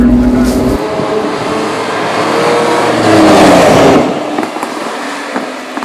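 Lamborghini LM002 engine pulling hard on the road under heavy throttle, a loud, close, continuous roar that swells and then eases off; someone speaks over it briefly.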